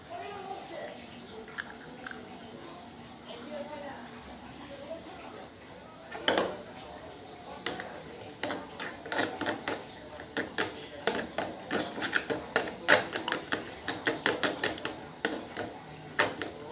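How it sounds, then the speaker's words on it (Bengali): Eggs with a little turmeric beaten briskly in a bowl for a village-style egg fry: a quick, steady run of light clicking taps that builds after a quiet start, close and fairly clear over low room background. "ডিমটা খুব ভালো করে ফেটিয়ে নিব।"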